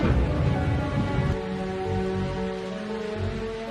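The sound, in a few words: heavy rain storm with thunder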